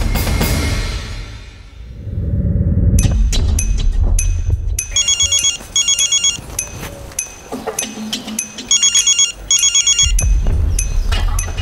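A telephone ringtone chirps in repeated bursts of bright electronic trills, loud and close, after a few seconds of rustling and handling noises.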